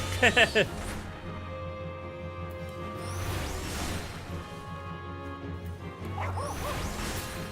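A dog barks in a few quick yaps near the start and again around the six-second mark, heard behind steady game music and sound effects while someone livestreams Final Fantasy XIV.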